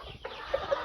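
Native chickens clucking nearby, a couple of short sharp clucks over a soft outdoor background, no talking.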